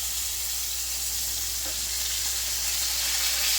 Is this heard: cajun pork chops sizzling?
yes